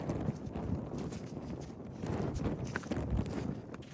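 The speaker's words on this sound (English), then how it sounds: "Wind is whipping, and you cannot go fast." Strong wind whips across the exposed slopes of Mt Washington, buffeting the microphone in low, gusty rumbles along with crunching, rhythmic footsteps of a hiker.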